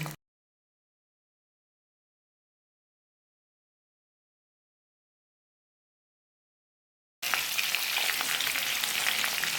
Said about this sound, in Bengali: কড়াতে সাদা তেল দিয়ে তাতে প্রথমে চিংড়ি মাছগুলো ভেজে নিচ্ছি